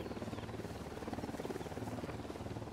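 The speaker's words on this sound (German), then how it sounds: "Der Hubschrauber immer noch da." A helicopter in the video game Ghost Recon Wildlands drones faintly with a steady, rapid rotor chop that pulses evenly, with no talk over it.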